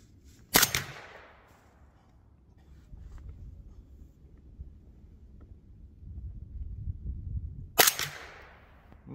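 Two suppressed .300 Blackout rifle shots with 190 grain Hornady Sub-X subsonic ammunition, fitted with a Whisper Strike suppressor and a 10-inch barrel, crack sharply about seven seconds apart over low outdoor rumble, with no talk.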